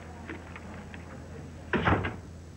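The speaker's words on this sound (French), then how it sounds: "Ferme la porte." A door being closed indoors, a short thudding bang with a brief rattle after some faint shuffling, moderately loud and close.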